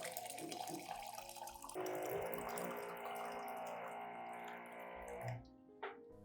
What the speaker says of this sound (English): Pour approximately 500 milliliters of hot water into the cup.